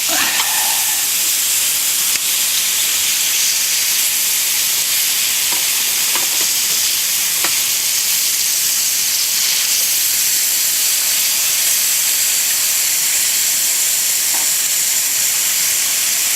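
Zucchini and other vegetables sizzling in a hot pan as they are flipped, a loud, steady, hissing fry running throughout with a few faint clicks and scrapes, close and uninterrupted.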